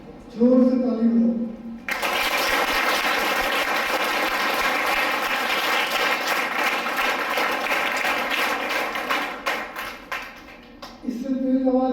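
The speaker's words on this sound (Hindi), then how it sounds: "जोर से ताली बजाओ।" Loud, dense clapping from a group of young athletes and coaching students at a Rajyoga sports session, a steady wall of hand claps lasting about nine seconds, with a voice speaking briefly before and after.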